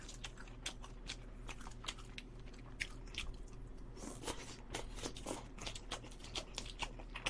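Crunchy bites and wet chewing of fried fish cake (eomuk twigim) dipped in sauce, close to the mic in a steady rhythm of repeated crunches, with no talking.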